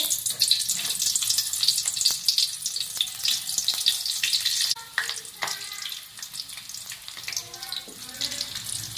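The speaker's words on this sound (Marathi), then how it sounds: "आता पहिला कांदा टाकून घेते." Sliced onion sizzles and crackles in hot oil in a kadhai with curry leaves, a continuous bright frying hiss with a few utensil clinks near the end.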